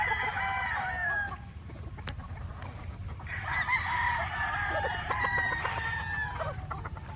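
Chickens at a farm, local birds with long tails, crow and cluck at moderate distance, with two drawn-out crows separated by a brief lull over low background noise.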